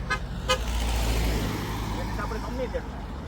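A passing car sounds its horn on a rural road near grazing cows, two short toots near the start, with engine rumble and someone talking over it.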